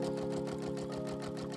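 A computerized embroidery machine stitches book text onto quilt fabric, making a steady, fast mechanical whir with a regular pulsing rhythm, loud and close, with no talking.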